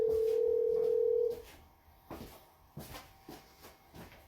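A telephone dial tone hums steadily for just over a second during a call, then cuts off, leaving quiet clicks and soft handling knocks on the line.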